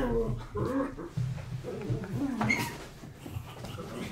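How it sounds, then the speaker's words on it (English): Two dogs whimper, pant and give small yips close by, the sounds steady and overlapping throughout, with people talking over them. "There's 2 dogs."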